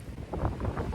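Wind buffets the microphone outdoors on a very windy day, a steady low rumble with gusty swells that runs through the whole moment.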